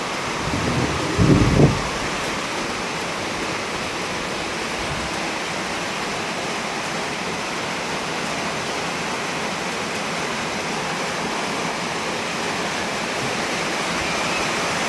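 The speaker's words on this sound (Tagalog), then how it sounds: "Pero sa bukid, malakas yung ulan" Heavy rain and wind pour down over a farm field in a loud, constant roar, with a brief dull thump near the start and no voices.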